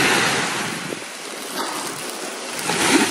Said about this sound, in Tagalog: Nalakas ang alon.